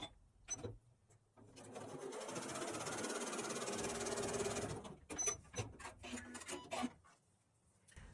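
A sewing machine runs for a few seconds, stitching fabric squares along a diagonal for a Christmas table runner, a close whirring buzz framed by short clicks and handling noises before and after.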